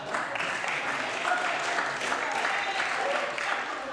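Steady applause from a crowd of legislators fills a provincial legislature during a State of the Province debate, a dense continuous patter at moderate level with voices faintly mixed underneath.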